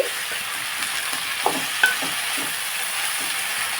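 Broad beans fry in oil in a pan with a steady, close crackling sizzle, broken by soft scraping stirs and a couple of light knocks from a utensil.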